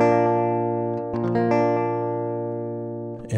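A barre chord on acoustic guitar, strummed from the fifth string down to the second, rings out sustained with a second strum near the middle and a fresh strum at the end; no voice, and the notes decay slowly.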